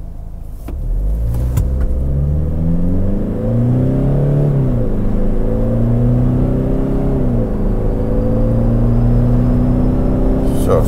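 A 2021 Toyota Fortuner SUV accelerates hard from a standstill, its engine revving up loudly through several gear changes with stepped rising and falling pitch, heard from inside the cabin.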